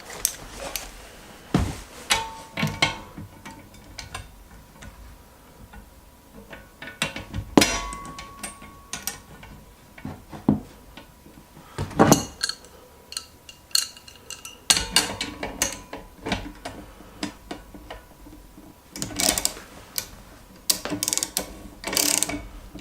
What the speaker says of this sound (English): I'm going to go ahead and start tightening down both sides and applying pressure and try to press these bearings into